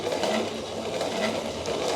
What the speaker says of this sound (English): So you use this grinder and you're going to grind the cocoa beans.